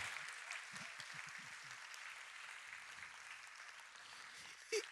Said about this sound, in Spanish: Dale ese aplauso al Señor si lo crees.